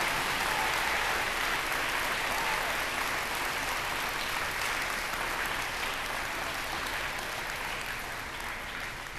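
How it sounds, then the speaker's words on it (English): Sustained applause fills a middle school celebration, dense clapping from a large crowd of students and guests that stays full and even throughout, easing only slightly near the end. "I really think he deserves a round of applause again for that"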